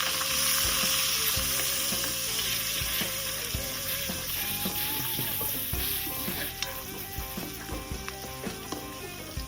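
Garlic and rampe frying in a pan, a loud continuous close sizzle with scattered crackles and utensil taps, easing slightly toward the end.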